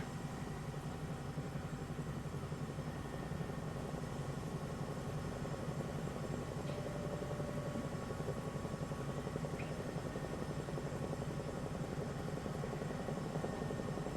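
Steady, droning helicopter rotor and engine noise from a Bell 222B flying under 100 knots in Microsoft Flight Simulator 2024 holds at an even level throughout, with no pauses.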